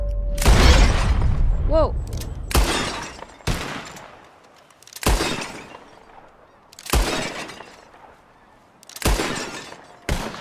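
Gunshots ring out in a shooting contest in Red Dead Redemption: about six loud, sharp cracks at irregular intervals of roughly one and a half to two seconds, each trailing off in a ringing echo, with one brief exclamation near the start.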